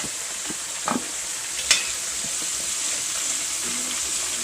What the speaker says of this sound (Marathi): 1-2 मिनिटं ह्याला आपण फ्राय करून घ्यायचं